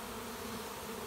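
A late-season honey bee swarm clustered near a tree gives a dense, steady buzzing hum, continuous and close, with no other sounds.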